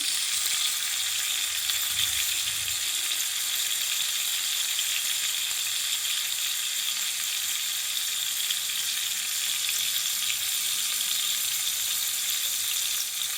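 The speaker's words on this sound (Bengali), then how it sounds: "এটা কিন্তু লো করে ভাজতে হবে।" Cauliflower frying on low heat in a pan gives a steady, even sizzle that holds unchanged and close for the whole stretch, with no talk over it.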